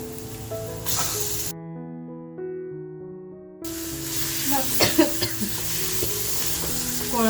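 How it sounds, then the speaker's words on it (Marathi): Minced prawns sizzle and crackle in a pan of masala, a steady loud frying hiss with stirring scrapes, interrupted briefly by a quieter musical stretch before the sizzle returns. "आता याच्यामध्ये आपण कोळंबी खिमा करून घेतलाय ती कोळंबी टाकते"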